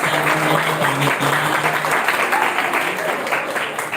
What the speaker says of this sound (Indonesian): tepuk tangan yang meriah untuk panitia